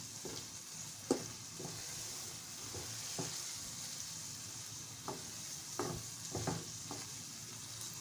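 Pumpkin fries in a pot for pumpkin porridge with yam, giving a soft, steady sizzle with occasional spoon scrapes and knocks as it is stirred.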